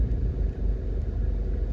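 Steady low road rumble of car traffic in Mandeville, Jamaica, a continuous mid-level drone of engines and tires with no distinct horns or voices, heard from close by.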